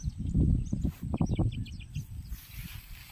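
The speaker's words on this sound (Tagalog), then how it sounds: "ang cute ng ibon" A bird near a lake gives a few short, high chirps over faint background rumble and soft handling noise.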